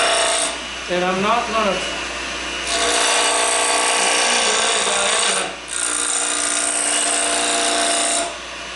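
Wood lathe spinning near 2,000 RPM while a tool makes a bevel cut on a heart-shaped wine glass, with a steady loud rasping scrape that stops briefly and resumes, and a short burst of talk early on.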